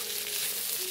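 A bori mixture with fresh cow's milk and chopped coriander leaves fries in a pan, giving a steady bright hiss of sizzling close up.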